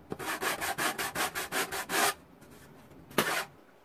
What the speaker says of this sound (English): So I'll take my sanding block.